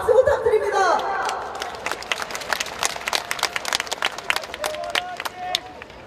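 Applause at a candlelight vigil for Sewol ferry victims. A crowd claps with scattered, uneven strokes after a voice briefly speaks at the start. Chatter and crowd murmur run underneath.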